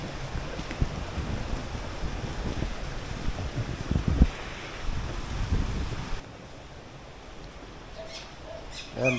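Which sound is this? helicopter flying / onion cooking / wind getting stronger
wind getting stronger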